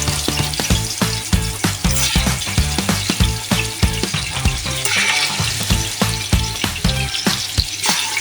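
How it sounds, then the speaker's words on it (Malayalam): Chicken frying in hot oil for Kozhikode biryani, a loud, close, continuous sizzle with rhythmic stirring and scraping of a utensil against the pan, no voices. "ചിക്കൻ വറുത്ത് കോരാം."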